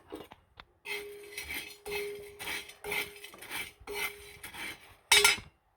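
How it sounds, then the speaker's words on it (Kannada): Homemade areca nut powder being roasted in a pan after leaves were toasted: repeated scraping and clinking strokes of a utensil against the pan, close and rhythmic, with a brief sharper clatter near the end and no talking. "ಬೊಡೆ ಸೊಪ್ಪನ್ನು ಹುರ್ಕೊಂಡ ನಂತರ ಇವಾಗ ಅಡಿಕೆ ಪುಡಿಯನ್ನು ಹಾಕಿಬಿಟ್ಟು ಹುರ್ಕೋತಾ ಇದ್ದೀನಿ"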